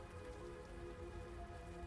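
Steady rain falls in the video game Unavowed, a continuous soft patter with a layer of tonal background music, even and unbroken throughout.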